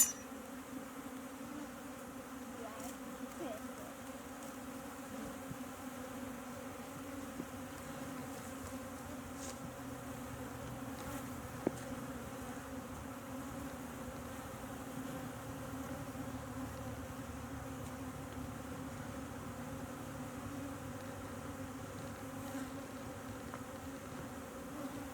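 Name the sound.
bees buzzing at a bee hive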